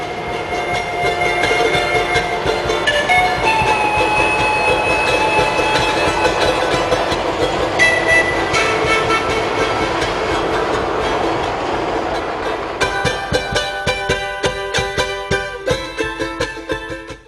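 A train to Machu Picchu rumbles steadily along the rails with a rhythmic clickety-clack and metallic squeals, loud and close, the wheel rhythm growing more distinct near the end.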